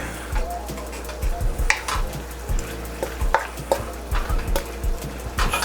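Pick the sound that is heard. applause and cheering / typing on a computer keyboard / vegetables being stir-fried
vegetables being stir-fried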